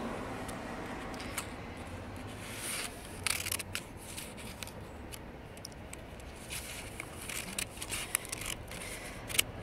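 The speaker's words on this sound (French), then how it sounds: "Ouvrons cela gentiment avec les ciseaux, tiens." Scissors snip and crinkle through a mailed envelope during a gift unboxing, making faint scattered cuts and paper rustles close by against a quiet room.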